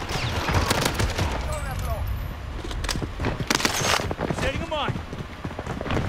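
Dense gunfire in Call of Duty Warzone, continuous crackling rounds and shots piling up through the whole stretch, with voices talking over the action.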